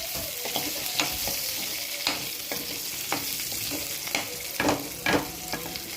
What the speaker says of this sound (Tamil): இது நல்லா வெங்காயமும் காஞ்ச மிளகா வெங்காயம் காஞ்ச மிளகா வதங்கின்னு இருக்கு